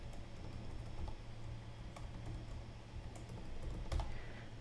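Quiet, irregular clicking of a computer keyboard as a password is typed in, light keystrokes under a low background hum, with no voices.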